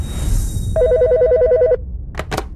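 An old-style telephone bell rings in a Korean police-station audio drama, one rapid warbling trill lasting about a second, loud and close, followed by two short clicks as the receiver is picked up.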